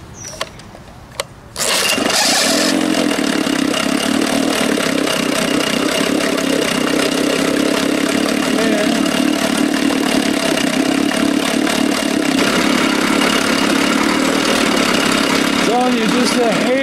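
A 1987 Johnson 6 hp outboard motor fires up after a couple of clicks and runs at a loud, steady, close idle for the rest of the clip, with a voice talking underneath.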